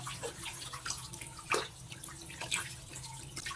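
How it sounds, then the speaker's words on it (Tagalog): Tilapia fish washed under a running tap, with soft, steady water splashing and a few drips and clinks in a sink, quiet and heard alone. "Linisan natin maigi para matanggal ang lansa."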